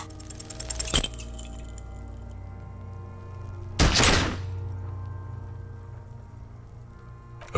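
A single loud gunshot cracks in the Disco Elysium video game, preceded by a metallic clink and followed by a fading ring over a steady low hum.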